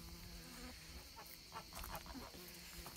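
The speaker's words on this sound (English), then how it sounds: "Haven for the bees." Bees drone steadily among calendula, comfrey and echinacea in a permaculture garden, a quiet continuous buzz with a few passing swells as insects fly close.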